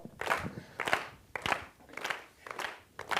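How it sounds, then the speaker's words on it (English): A slow hand clap: about six evenly spaced claps, moderately loud and close, with no voice over them. "Slow hand clap."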